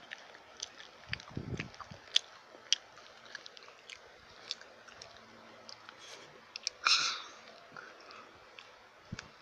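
Close, quiet chewing of food, with soft crunching and wet clicking bites scattered irregularly throughout and one louder crunchy bite near the end.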